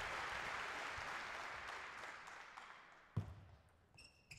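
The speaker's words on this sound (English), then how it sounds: "The crowd is cheering" A crowd at a table tennis match applauds in a broad wash of clapping that fades away, followed by a sharp knock and the light tick of a ball.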